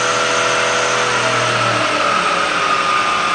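A Bridgeport milling machine with a 42-inch table runs its spindle in high range at around 2,700 RPM, giving a steady, loud mechanical whine with a constant hum throughout, no voices present.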